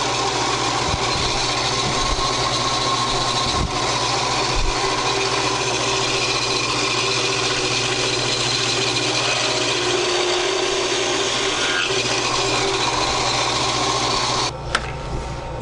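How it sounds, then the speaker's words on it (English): A power drill whirs continuously and loudly for a long stretch, boring a hole into a composite pen blank with little variation until it winds down. "Drill down a little bit, probably down as far as that tube in there."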